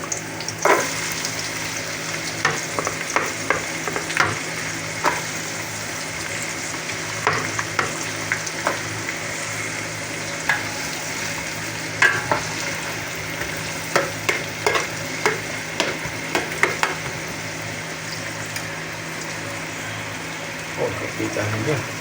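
Onions and vegetables fry and get stirred in a pan for a Filipino pakbet, a steady close sizzle broken by frequent scraping stirs, with a voice talking over it now and then.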